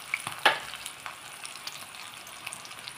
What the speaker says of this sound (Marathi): छान परतून द्यायचं तेलात